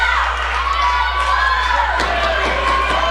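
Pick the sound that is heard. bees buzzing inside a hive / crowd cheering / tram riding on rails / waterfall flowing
crowd cheering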